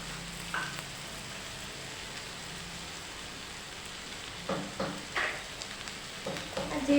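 Spice paste being stirred with eggplant and potatoes in a hot pan, a steady sizzling hiss with occasional scraping strokes of the spoon near the end.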